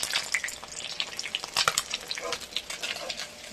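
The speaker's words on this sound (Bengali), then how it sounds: "আমাদের মাছ ভাজা প্রায় হয়ে গেছে" Fish frying in a pan of hot oil, a crackling sizzle with bursts of spattering pops and some stirring scrapes, close and fairly loud, with no talk.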